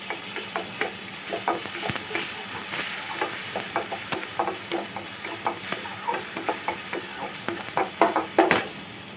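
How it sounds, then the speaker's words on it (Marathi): A ground masala paste for aloo paratha sizzles in hot oil in a pan, with steady hissing broken by rhythmic scraping strokes of a spatula that grow slightly louder toward the end. "असं छान तेलामध्ये परतून घ्यायचं"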